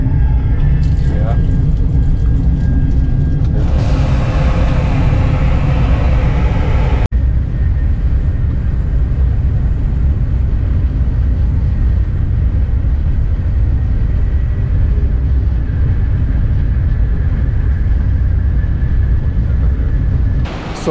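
Inside a RENFE AVE high-speed train between Madrid and Barcelona, a loud continuous interior rumble and roar with a brief swell of brighter rushing noise early on, steady throughout.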